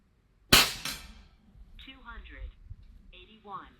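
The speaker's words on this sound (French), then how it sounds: "Je vous garantis qu'en face, là-bas, ça claque fort dans la tôle" A sharp, loud crack of an air rifle shot close by, followed by someone speaking; no clear distant metallic impact stands out.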